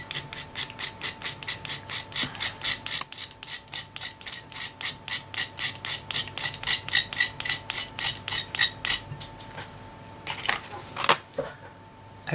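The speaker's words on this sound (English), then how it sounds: "I'm going to scrape again" Pastel colour being scraped to make a dark brown powder, heard as a fast, regular rasping rhythm of short strokes, close and crisp, then slowing into a few sparse scrapes and taps, with no talk.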